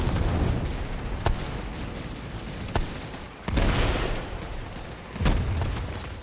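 Sharp, heavy sniper rifle shots crack out in a video game match, four distinct reports spaced a second or two apart over a steady rumble of background ambience.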